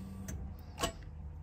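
Fuel pump ticking on an old Japanese car, a quiet mechanical tick with one brief louder click and a low steady hum throughout.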